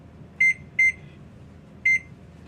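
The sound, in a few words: kitchen timer beeping as it is set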